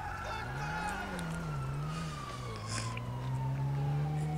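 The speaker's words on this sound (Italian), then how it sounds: "C'è la polizia che mi cerca" Police siren wailing in the video game GTA 5, a steady rising-and-falling tone sounding continuously over car and street noise, fairly loud and near.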